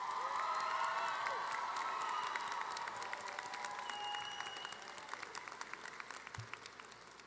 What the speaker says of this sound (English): give them a loud round of applause